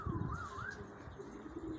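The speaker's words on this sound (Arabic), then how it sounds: "في كثير حمام داير اليوم" Faint pigeon cooing with a soft, wavering tone over a low rumbling background.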